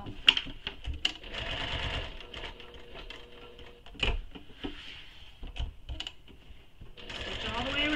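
A home sewing machine runs steadily, stitching around the edge of a fabric sling pack, with a continuous mechanical whirr, brief pauses and a few clunks as the work is adjusted.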